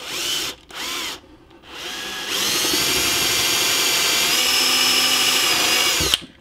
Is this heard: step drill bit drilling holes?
yes